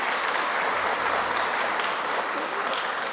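An audience applauds steadily at the closing of a carbon-neutrality colloquium, a dense, even wash of clapping that holds for a few seconds at moderate level with no voices over it.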